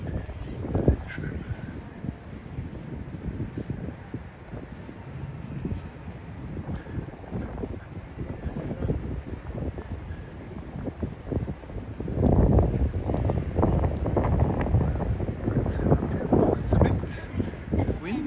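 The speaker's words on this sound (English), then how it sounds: "Windier than I expected." Wind buffets the microphone in gusty, rumbling bursts beside the Tama River, strengthening toward the end, with people talking in the background.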